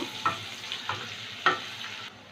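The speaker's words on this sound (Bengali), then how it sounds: "পেঁয়াজ কুচিটা দিলাম, লঙ্কা কুচিটা দিলাম, একটু ভেজে নেব" Chopped onion and green chilli fry in a pan with a soft, continuous sizzle, broken by a few light spatula scrapes at a steady, unhurried pace, heard close and quiet.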